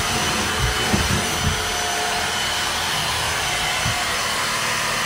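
A household vacuum cleaner runs steadily indoors during home cleaning, a continuous broadband whir with a few low bumps as it is pushed around, close and fairly loud, with no talking.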